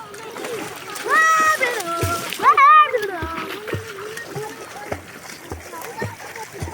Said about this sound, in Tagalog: Mga bata nagtatampisaw sa dagat.